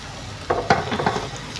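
Tempering for daal sizzles in hot melted butter, with a few clinks and stirring sounds from a pan, close by, no talking.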